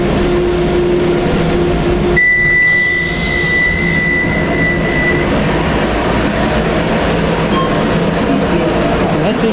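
A Docklands Light Railway train runs with a steady, loud rumble and hum heard from inside, with a sustained high whine partway through.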